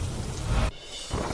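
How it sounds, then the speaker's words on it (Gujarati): Heavy rain pours in a dense, loud roar with a low thunder rumble, cutting off abruptly partway and then resuming, with no voices present. "મહેસાણા જિલ્લામાં પડ્યો ધોધમાર વરસાદ"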